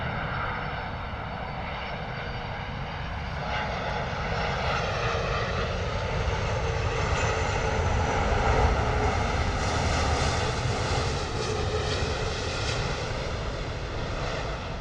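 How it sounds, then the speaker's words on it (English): Turkish Airlines Airbus A330-300 landing at London Heathrow, a steady jet roar with layered whining tones that swells gently as it passes, fairly distant, with no talk. "Beautiful Turkish Airlines A330-300 coming in from Istanbul"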